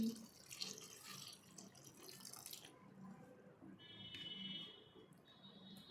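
Water pours into a container over amla (Indian gooseberries) in a soft splashing stream that starts and stops, faint and close, amid quiet background noise.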